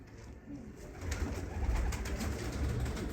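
Soft, low cooing of Sialkoti pigeons rolls on continuously, fairly close but quiet, with no voices.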